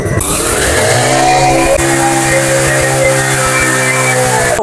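A small petrol mini power tiller engine fires up and runs steadily, its loud, continuous throbbing putter close by and alone for nearly five seconds.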